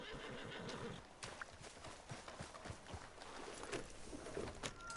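A horse in the Red Dead Redemption 2 video game whinnies and snorts close by, with soft clip-clop hoofbeats and light background game ambience over five seconds.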